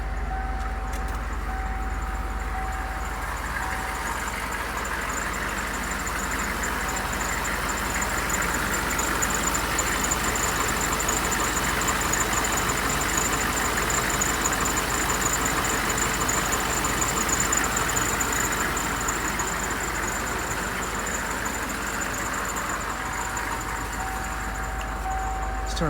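A 1995 AM General Hummer H1 engine idling steadily and close, a continuous low rumble with a faint whine above it, unbroken and even throughout.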